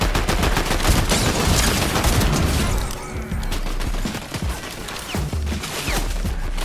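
Rapid gunfire bursts in a Fortnite tournament match, loud and dense at first with shotgun blasts, then sparser shots and clatter in the second half.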